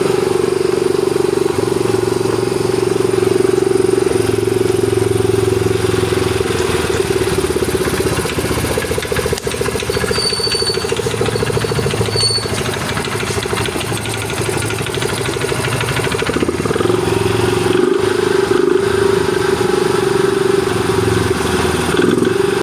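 A Yamaha Mio i 125 scooter engine runs steadily at idle, a continuous mechanical hum with a faint ticking texture, close by and unbroken throughout.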